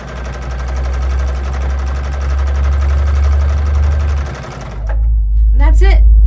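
A sewing machine free-motion quilts a mini quilt, rapid dense stitching chatter running steadily then stopping, followed by a brief voice speaking.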